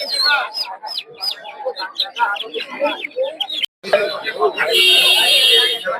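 Chickens, including fighter chickens, cluck and squawk repeatedly in a busy poultry market, close by, mixed with people talking and a sharp electronic beeping near the end.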